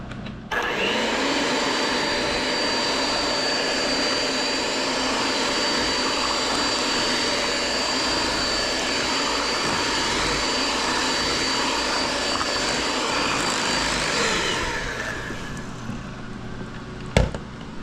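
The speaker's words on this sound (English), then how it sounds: "so let's blend this up" Blender mixing Viking pancake batter with added white flour, a loud continuous motor roar lasting about fourteen seconds before winding down, with a sharp clunk near the end.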